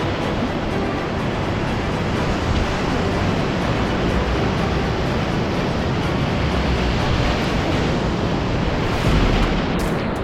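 Whitewater rapids on the New River Gorge roar as a continuous, loud broadband rush of churning waves, steady throughout with no voices.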